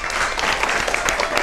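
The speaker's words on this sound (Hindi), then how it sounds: "तो जोरदार तालियों के साथ स्वागत कीजिए हमारे म्यूजिशियंस का" An audience at a Hindi television talent show applauds to welcome the musicians, a steady, dense wash of many hands clapping, loud and continuous throughout.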